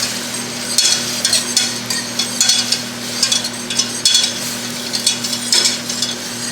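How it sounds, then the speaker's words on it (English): Sautéing in a pan before whisking in flour for a roux, rhythmic bursts of sizzling and stirring scrapes with a low steady hum underneath, close and fairly loud. "So what you want to do is just kind of saute this just a little bit"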